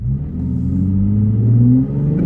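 A Toyota Tacoma fitted with a Pedal Commander throttle controller accelerates hard, its engine rumbling and climbing steadily in pitch over two seconds, loud and close, then easing off at the end.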